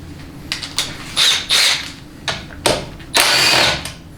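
A hand ratchet clicks in short bursts while transmission pan bolts are removed from a failed Ford 6R140 reman transmission, close and fairly loud, with irregular pauses between turns.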